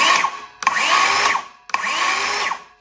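A Dewalt cordless saw on battery power spins up in three trigger pulls, each a loud whining burst rising and falling, separated by short gaps.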